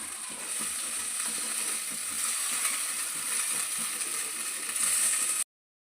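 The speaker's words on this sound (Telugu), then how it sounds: "ఇప్పుడు ఇందులోకి సేమియా వేసుకుందాం." Vermicelli (semiya) with turmeric and pepper powder sizzles in a hot pan, a steady close hiss of frying with faint scraping as it is stirred, then abrupt silence.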